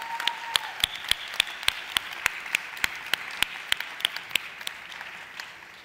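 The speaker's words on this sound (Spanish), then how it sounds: "Por favor, regálenos un aplauso." An awards-event crowd claps steadily for several seconds, sharp individual claps standing out over a continuous wash of applause.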